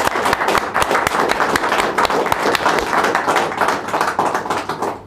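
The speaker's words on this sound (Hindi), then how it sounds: "इसके लिए एक बार फिर से 2 मिनट तालियां बजा करके अपना आपका स्वागत करें।" Loud, dense applause from a workshop audience, many hands clapping quickly and continuously at close range until it tapers off at the very end.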